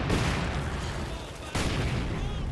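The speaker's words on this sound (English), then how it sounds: "we're just barraging the hell out of this 120 mm mortar" Sustained barrage of mortar fire from a 120 mm mortar in Company of Heroes 2, a dense, rumbling wash of overlapping booms and explosions that runs continuously and loudly, with a brief dip before the thunder resumes.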